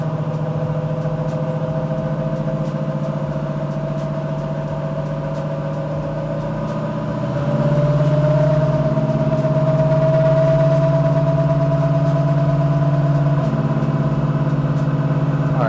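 A car engine runs steadily on a dyno in third gear, holding a loud, even drone that steps up in pitch and intensity about halfway through, with no talking.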